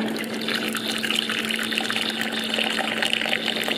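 Hot water pours steadily into an instant beef noodle bowl, a continuous close splashing rush that keeps an even level throughout with no voices.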